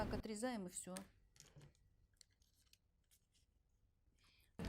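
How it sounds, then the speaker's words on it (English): Scissors snip through paper for a dress pattern in a few soft, close cuts after a brief stretch of speech, quiet and sparse. "Just cut the detail this way."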